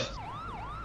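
Police siren in GTA 5 FiveM roleplay, a continuous wailing tone rising and falling in smooth sweeps, fairly loud and steady with no talk over it.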